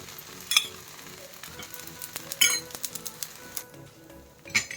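Uttapam frying in oil on a hot pan, a steady quiet sizzle with a few sharp clinks of a utensil against the pan scattered throughout.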